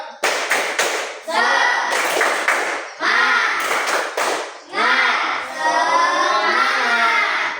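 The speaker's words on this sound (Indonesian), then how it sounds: "Ulangi, tepuk semangat." Schoolchildren in an elementary classroom doing a rhythmic spirit clap, bursts of quick patterned claps and taps in several short sequences, close and loud, with some children's voices mixed in.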